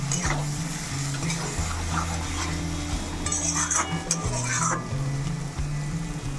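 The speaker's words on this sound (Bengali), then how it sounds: "আলুটা দিয়ে একটু ভালো মতো কষিয়ে নেব, তাহলে আলুর মধ্যে মশলাটা যাবে।" Potatoes sizzle steadily as they are sautéed with salt and spices in a pan, with the clink of a metal spatula scraping and stirring throughout, close and continuous with no talk.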